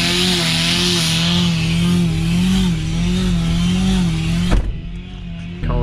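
A supercharged, intercooled Ford AU Falcon engine runs loudly close by with a steady droning, slightly wavering idle, then cuts off abruptly near the end.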